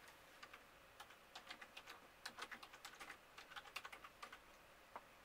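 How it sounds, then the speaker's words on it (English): Someone types on a computer keyboard while testing an Android TV box, a quick, irregular run of faint plastic key clicks, close and steady, with no one speaking. "I can type with my keyboard."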